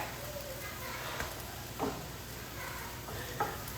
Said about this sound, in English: added the fire roasted tomatoes to the shallot and the garlic